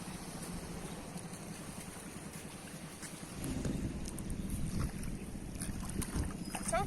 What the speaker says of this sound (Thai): นั่นน่ะเรือ